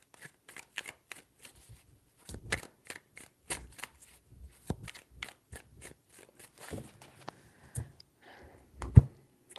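Tarot cards shuffled by hand during a zodiac reading, a run of crisp riffling bursts and soft slaps in irregular rhythm, close and moderately loud, with no talking over them.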